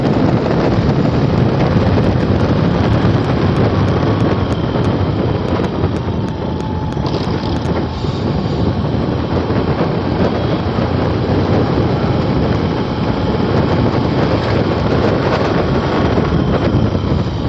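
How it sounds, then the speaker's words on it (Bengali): A motorbike rides along a quiet rural road lined with canals and trees, heard as steady, loud wind buffeting the microphone over a continuous low engine drone, without a break for the whole stretch. "ঠান্ডা হাওয়ায় গাড়ি চালিয়ে চালিয়ে যাও।"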